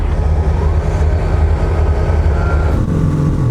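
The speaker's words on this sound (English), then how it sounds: "There's like slow trains and then there's slow trains." A slow train rolls past steadily with a loud, continuous low rumble that stays constant throughout.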